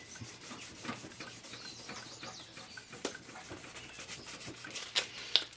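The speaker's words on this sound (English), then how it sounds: "Take my sandpaper and then I'll just sand." Sandpaper scrapes across a GameCube game disc, a close, faint rasping rub repeated in short strokes, with a few sharper scratches near the end.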